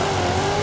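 A Ford Mustang Boss 302 in Forza Horizon 5 revs loudly in a steady, brief burst, its engine note held at a constant high drone while the car sits on the e-brake before a drag launch.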